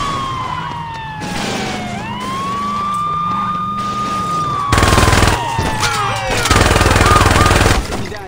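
Wailing police sirens rise and fall during a chase in the video game Saints Row 2, loud and close, with bursts of gunfire breaking in toward the end.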